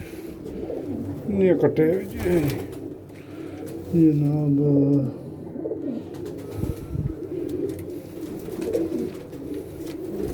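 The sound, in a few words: pigeons cooing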